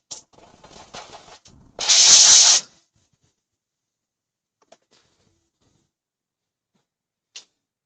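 A brief, strong burst of air lasting under a second clears dust from a Zebrano wood bowl on a lathe after sanding at 240 grit, preceded by soft rubbing noises and followed by near silence with a few faint clicks.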